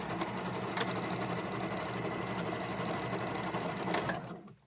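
A sewing machine stitches a fabric face mask with a fast, continuous mechanical whirring and rapid needle clatter, running steadily at close range before slowing to a stop.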